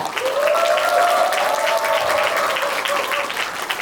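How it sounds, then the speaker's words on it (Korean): Attendees at the opening ceremony of a Korean national urban farming activists' convention give big, sustained applause, a loud dense roar of clapping with a voice faintly audible over it. "여러분의 큰 박수로 시작하도록 하겠습니다"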